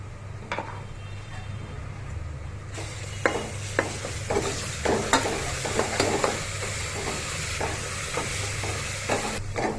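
Ginger garlic paste frying in a pan for boti curry, a steady sizzle that grows louder after a few seconds, punctuated by repeated sharp spatula scrapes and taps against the pan, no talk.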